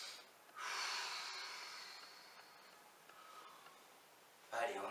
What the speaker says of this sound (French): On utilise bien la respiration